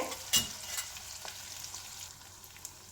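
Chopped onions and a tempering of crisp chana dal fry in a pan, a continuous sizzling hiss with a sharp clatter of stirring near the start and scattered spoon scrapes, no talking.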